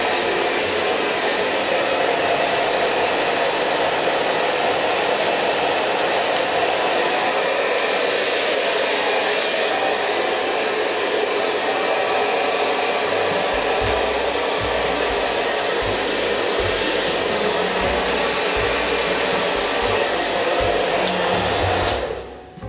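A hair dryer blows steadily and loudly, close by, drying a section of hair from wet at home, a continuous roaring whoosh with no speech that cuts off right at the end.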